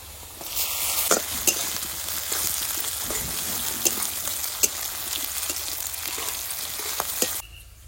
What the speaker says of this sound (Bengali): পেঁয়াজ রসুনের মধ্যে লঙ্কাগুলো একটু ভেজে নিয়েছি